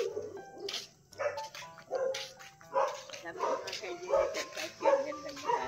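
Several pet dogs bark and yip in repeated bursts while out walking around a yard, fairly close, with people talking over and between the barks.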